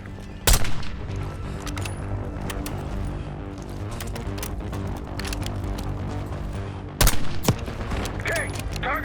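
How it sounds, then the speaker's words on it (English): Mortar and gunfire in the video game Call of Duty Black Ops 6: two heavy blasts stand out over a steady rumble of battle noise and scattered shots, with no talk. "Got mortar fire."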